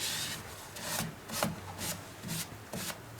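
A cloth rubs in repeated strokes over a lacquer-finished turned wood piece, close and fairly quiet, with about eight rhythmic wiping passes and no talking.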